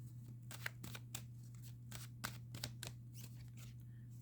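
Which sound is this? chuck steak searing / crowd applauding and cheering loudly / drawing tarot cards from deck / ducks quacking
drawing tarot cards from deck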